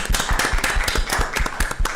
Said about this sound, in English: let's give Julio a round of applause